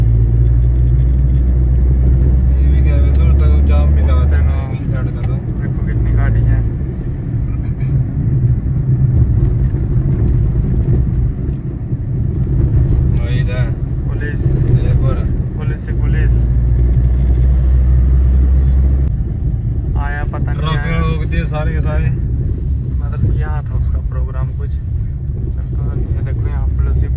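Heavy road traffic in a long jam, with a continuous loud rumble of cars passing close by, wind buffeting the microphone, and someone talking over it at intervals.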